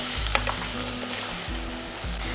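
Onions, tomatoes, capsicum and sweet corn sauté in a pan with a steady close sizzle and a few stirring scrapes, with nobody speaking.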